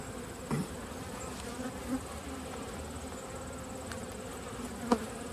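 A steady, low buzzing drone of many honey bees in a hive during a fall inspection, with a few brief louder buzzes passing nearby.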